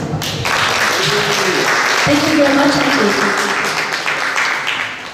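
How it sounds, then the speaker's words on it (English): Audience applause at a community fundraising event, a crowd clapping steadily for several seconds while a voice speaks over it. "Can you please give them a round of applause?"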